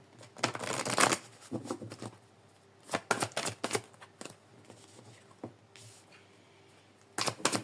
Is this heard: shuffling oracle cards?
yes